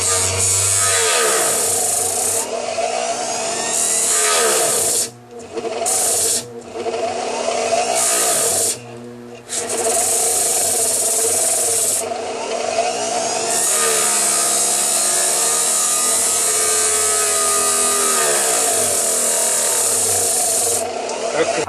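A power saw runs loud and steady as it cuts through a large block at a set angle. A shrill whine holds throughout, with a few short drops in pitch and level where the blade bites into the material.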